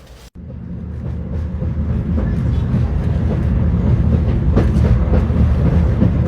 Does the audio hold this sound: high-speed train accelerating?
yes